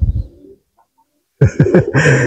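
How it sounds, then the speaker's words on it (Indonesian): A bird's call rings out briefly, then a burst of cooing, flapping-like sound close by after a short silence. "Kaget saya ada burung lewat."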